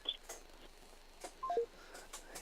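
Telephone keypad dialing tones as a phone call is placed, several short, quiet, separate beeps spread unevenly over a couple of seconds against near silence.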